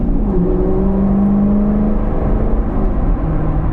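A C7 Corvette Grand Sport launching from a near stop on cold tires with poor traction, the engine droning loud and close with a rising whir and a brief squealing tone.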